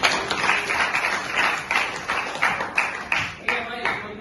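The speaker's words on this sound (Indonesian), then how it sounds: "tepuk tangan dulu dong" A small audience at a classroom tech session claps in a short burst of rhythmic, fairly close applause, with beats repeating roughly every third of a second and a voice faintly underneath.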